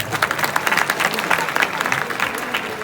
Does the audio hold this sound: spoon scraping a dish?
no